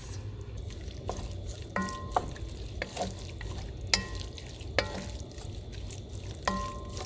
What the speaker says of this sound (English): Then I'm going to go ahead and dump my sauce in here